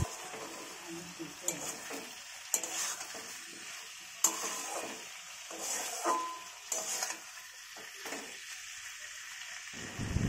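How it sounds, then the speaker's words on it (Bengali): Chicken being sautéed in a pan until it turns red, giving a soft sizzle with intermittent scraping stir strokes at close range, some sharper clicks among them, and no talking. "কি সুন্দর কষছে, লাল লাল করে কষাচ্ছি আমি চিকেনটা"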